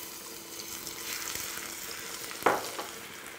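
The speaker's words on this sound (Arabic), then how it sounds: "بدنا نطشلها تومة." Garlic frying in a pan for okra stew, a soft continuous sizzle with light stirring and a brief sharper splash of sound near the end, close by and without talk.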